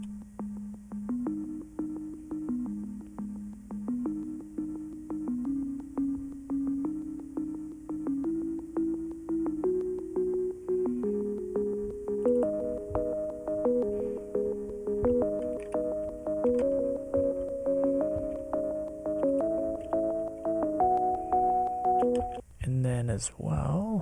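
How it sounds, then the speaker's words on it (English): A 90s-style bass organ synth plays a stepped, rising line of sustained notes, alone and fairly prominent, ending in a short burst of noise. "in the verse, found kind of like a 90s bass organ thing."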